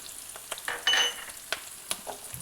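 Chopped ginger and garlic hitting browned onions in a hot pan for an egg curry, a soft close sizzle with a brief louder hiss and light stirring scrapes.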